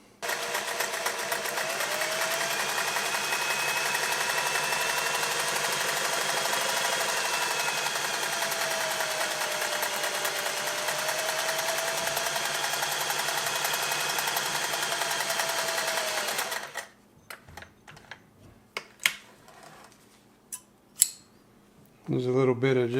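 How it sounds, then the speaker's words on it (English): Singer 403A sewing machine stitching zigzag, a fast steady mechanical whir and chatter running close and even for a long stretch, then stopping abruptly into quiet handling clicks and taps. "There's a little bit of just running the zigzag width back and forth while you sew."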